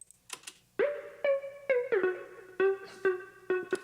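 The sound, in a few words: synth lead with ping pong delay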